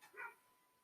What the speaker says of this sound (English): That's not my dog, that's the neighbor's dog.